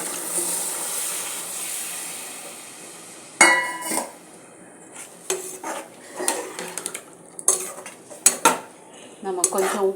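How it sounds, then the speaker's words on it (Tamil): Legumes for a mixed-grain sundal kurma go into a pan after sautéed masala, first a soft hiss, then sharp clanks and scrapes of a metal spoon against the pan in irregular bursts, close and loud. "இப்போ நம்ம வந்து இதில் வந்து இந்த பயரை சேர்த்துடுவோம்"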